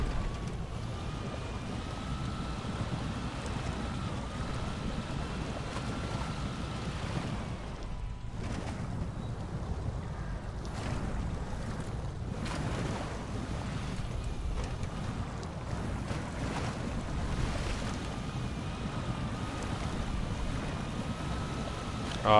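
An F-B83 truck pushes through deep water in SnowRunner, a steady low engine rumble mixed with continuous sloshing and rushing water that holds loud throughout.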